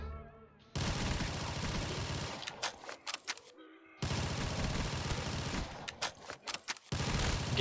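Rapid AK rifle bursts in Black Ops 3 custom zombies, loud sustained automatic fire in two long strings with short gaps and sharp individual shots between.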